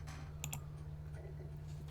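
Quiet typing on a computer keyboard, with a few brief clusters of key clicks over a steady low electrical hum, no voices.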